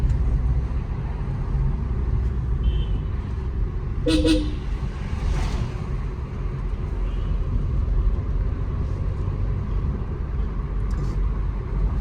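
Busy road traffic near Kodaikanal, a steady rumble of engines with a short car horn toot and a fainter honk afterwards.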